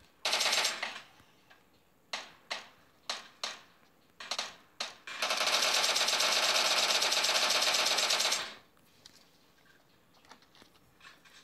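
Gunfire in the PUBG Mobile zombies mode comes as several sharp, separate shots followed by a long, loud, unbroken automatic burst lasting a few seconds, then fainter scattered pops.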